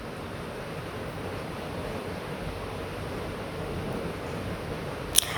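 Spices temper in hot oil for an ash gourd dish, giving a steady, even sizzle that stays constant throughout, with a sharp click near the end.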